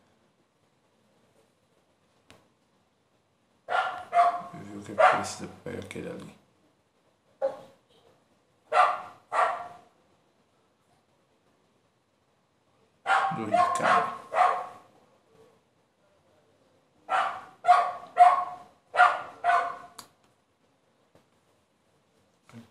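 A dog barks in the video game Kingland, several short clustered barks in separate bursts with long silent gaps between them, fairly loud and up front, with a brief line of speech once.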